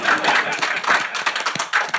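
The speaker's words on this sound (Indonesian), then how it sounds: "Tepuk tangan buat usaha restoran." Hands clapping together in applause for restaurant businesses, a close, lively patter of several people's claps for a couple of seconds.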